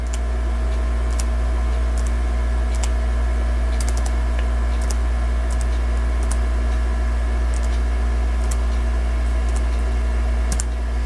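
Computer keyboard tapped to enter a library card number, with sparse, light key clicks spread unevenly over a steady electrical hum.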